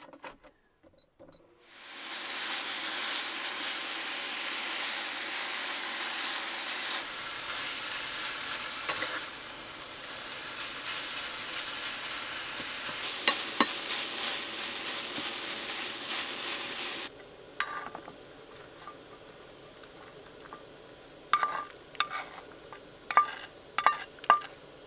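Finely sliced ribeye sizzles steadily in a hot pan for a Philly cheesesteak cooked in a camper van, a continuous close frying hiss. Light clinks of utensils and cookware follow near the end as the sizzle quiets.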